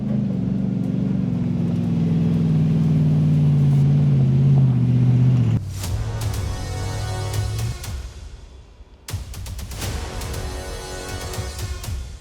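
A 4WD vehicle climbs a steep, rocky high-country track, its engine droning and dipping in pitch under strain before giving way to a rough, crunching rumble of tyres over rock that fades briefly and then returns.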